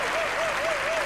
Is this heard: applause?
yes